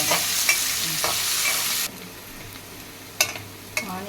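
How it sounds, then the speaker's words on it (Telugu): Thinly sliced onions fry with cashews until brown for Andhra pepper chicken, a loud close sizzle with spatula clinks that suddenly drops to a quieter hiss, followed by a few sharp scraping strikes. "ఆనియన్స్ బాగా బ్రౌన్ కలర్ వచ్చే వరకు దూరగా వేయించుకోవాలి"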